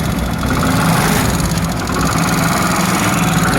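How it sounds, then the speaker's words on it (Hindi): A Honda Pridor motorcycle engine with a fault runs steadily at idle, a loud close rumble with a rough, uneven mechanical rattle layered through it and no talking. "ये मुख्तलिफ आवाज़ें निकाल रही है बाइक"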